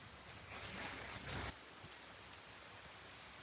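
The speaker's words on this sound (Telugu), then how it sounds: "But it's been raining a lot." Rain falls steadily outside, a dense, even patter that swells heavier for a moment before settling back to a constant moderate downpour, with no voices.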